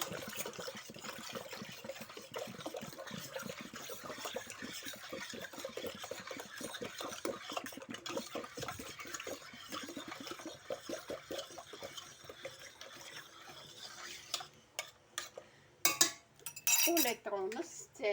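Juice and water are stirred in a container, making a quick, rhythmic run of soft swishes and light clinks that grow more irregular and sharper toward the end, fairly quiet and up close.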